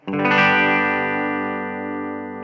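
A single sustained electric guitar chord from a Gibson SG with pickups in series wiring rings out with a bright attack and slowly decays, heavily processed with distortion and chorus.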